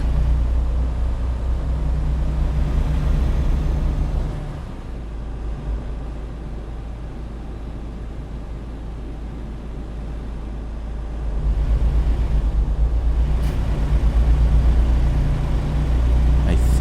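A truck engine in the video game American Truck Simulator drones steadily, the low rumble easing off midway then rising again as the throttle opens.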